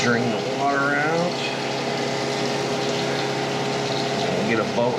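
Water gushes and rumbles out of a milk tanker hose with a steady pumping roar and shifting tonal whine, while voices talk over it.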